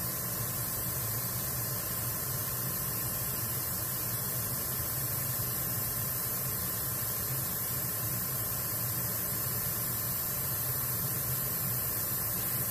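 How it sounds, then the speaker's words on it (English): An airbrush blows alcohol ink across a surface to shape soft flower petals, giving a steady, even hiss of air over a low electrical hum that runs unbroken throughout with no voices. "I hold the airbrush further away because I find that it blows the petal out this way"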